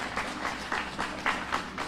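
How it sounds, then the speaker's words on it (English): Applause from an audience at a children's museum reopening in Louisiana, a modest, fairly distant patter of clapping with a few louder bursts, lasting about two seconds. "I feel like that needs a round of applause."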